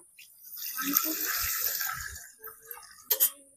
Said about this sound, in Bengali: ডালটা একটুখানি আমি ঘুটা দিয়ে দিয়েছি, এবার আমি জল দিয়ে দেবো।